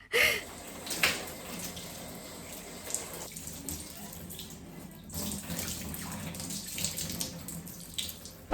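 Water runs steadily in a shower at home, a soft continuous hiss with splashing shifts and a few brief thuds, faint and close without talk.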